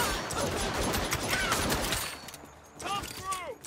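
Gunshots in the Saints Row video game, a dense clatter of rapid shots for about two seconds, then quieter sporadic game sounds as a voice speaks.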